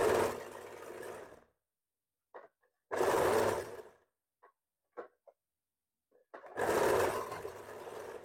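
Sewing machine stitching a princess-cut blouse, three close whirring runs of a second or so each with near silence and a few faint taps between them.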